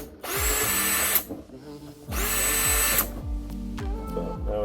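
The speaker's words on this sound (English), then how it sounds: "and drill you a hole." A power drill fitted with a hole bit cuts a hole in plastic in two loud, close bursts, each winding up and then spinning down.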